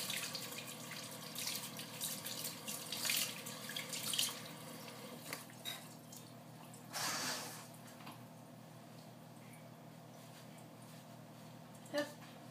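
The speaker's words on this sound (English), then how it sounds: "So, I'm gonna wash this Nutella off." Tap water runs steadily into a sink as Nutella is washed off, a soft continuous wash with a brief louder gush midway and a small clink near the end.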